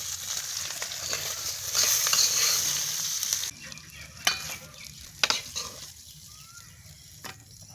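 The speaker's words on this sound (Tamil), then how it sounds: "மீன் அருமையாக வறுத்து எடுத்துட்டோம்" Murrel fish frying in hot oil for a fish sambar, a steady bright sizzle that fades after a few seconds, with scattered clinks and scrapes of a utensil against the pan nearby.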